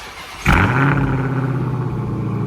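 Cold start of a Dodge Challenger Hellcat Redeye fitted with catless mid pipes and a mid muffler: a sudden loud roar at startup settles into a steady, rumbling idle, close by with no talking.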